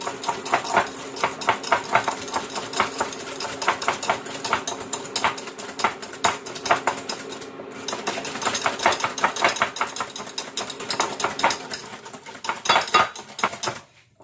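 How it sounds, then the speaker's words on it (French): A whisk beats eggs in a bowl into a pale mixture, making rapid, steady metallic clinks and scrapes that run continuously for the whole stretch, close and fairly loud, with no talking. "Fouetter le mélange jusqu'à ce que ça blanchisse."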